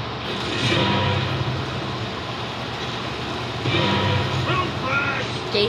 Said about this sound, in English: get on the train before this ends